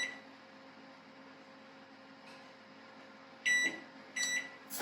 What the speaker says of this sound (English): So I'm going to set my timer